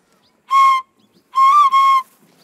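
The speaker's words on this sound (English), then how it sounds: "It sounds like a horn to me." Horn blown in the distance during a Luo folk story, three clear tonal blasts: one short, then two longer ones in close succession, sounding alone against silence.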